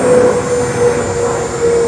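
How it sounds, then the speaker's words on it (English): Airplane passing overhead outdoors, a steady broad engine drone holding at an even level throughout with a faint tonal hum, no talking. "And the plane shows we're not in a studio."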